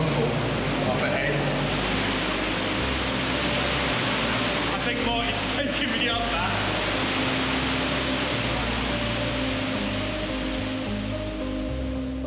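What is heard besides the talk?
rumble of an underground river and waterfall in a cave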